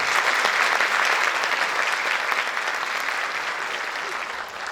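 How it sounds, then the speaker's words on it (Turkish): A concert audience at a Turkish classical music choir's centenary concert applauds a choir conductor, dense steady clapping that fills the room and slowly tapers toward the end. "Sayın şefimize de alkış rica ediyorum."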